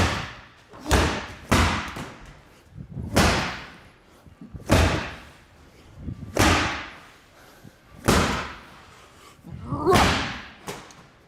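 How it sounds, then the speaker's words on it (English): Medicine balls are slammed to the floor during a group livestream workout, giving about seven loud, close, heavy thuds spaced a second or two apart, with faint breathing between them. "It's a bunch of dudes slamming balls."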